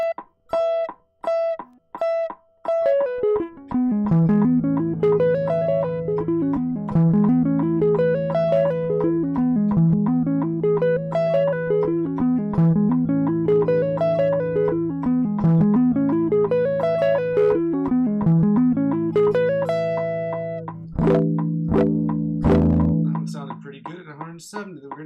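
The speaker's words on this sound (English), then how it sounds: "We're going to work on the sweep picking exercise" Electric guitar plays a sweep picking exercise at a steady fast tempo, arpeggios rising and falling in even repeating waves over a constant backing, loud and close, ending with a few sustained chords.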